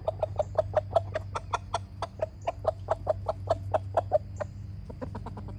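A rooster clucks in a fast, regular series of sharp calls nearby, steady for several seconds before trailing into a few quicker, softer clucks.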